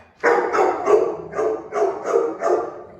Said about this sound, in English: Like these dogs right now, they're barking because there's a truck outside that's backing up and they can hear that sound.